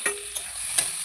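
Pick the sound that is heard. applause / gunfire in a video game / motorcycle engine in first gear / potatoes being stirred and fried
potatoes being stirred and fried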